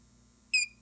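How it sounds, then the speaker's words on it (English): A single short, high-pitched electronic beep from a battery inverter's low-battery alarm, powered by a Nissan Leaf battery pack; the tone is brief and clear and stands alone over a faint low hum. "there's your alarm, right, that says, hey, batteries are low, which is good"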